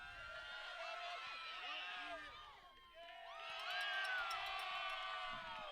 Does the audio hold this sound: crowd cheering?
yes